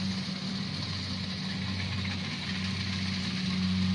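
Kubota DC 70 Plus combine harvester working a field of tall, rain-flattened rice, giving a steady, loud engine drone with a low rumbling hum and no talk.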